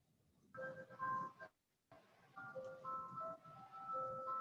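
An ice cream truck jingle plays in short melodic phrases with a brief pause, moderately loud against a quiet background.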